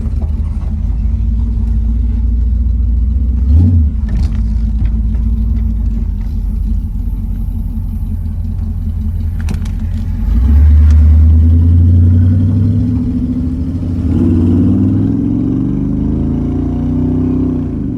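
A 1956 Chevrolet 3100 pickup with a 350 crate engine drives down a road, its steady low engine rumble filling the cabin and swelling briefly as it accelerates.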